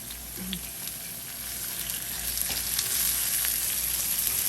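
Sliced onions fry in oil in a pan for Cuban steak sandwiches, a steady close sizzle that grows louder and fuller over a few seconds, with a faint clink early on.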